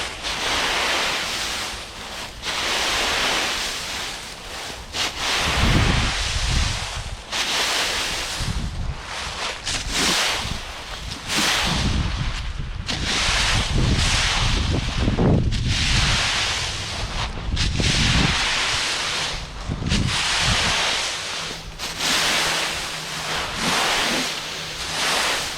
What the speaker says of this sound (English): All right, blower's warmed up.